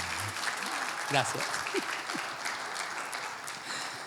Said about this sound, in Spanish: Un aplauso para mi hija.